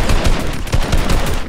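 Rapid gunfire in Fortnite, a dense stream of loud, punchy shots in quick rhythm throughout a short stretch, with no talking.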